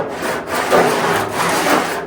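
Sandpaper rubbed by hand across the curved body panel of a VW Baja Bug, a steady broadband scratching that swells and eases in long even strokes, close and continuous with no voices.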